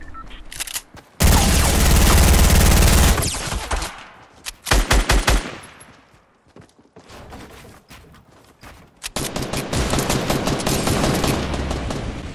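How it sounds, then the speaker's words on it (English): Gunfire in the Fortnite video game, loud sustained bursts of rapid shots broken by short gaps and scattered single cracks, close and harsh throughout. "I hear him shooting, but I don't know if I wanna fight him"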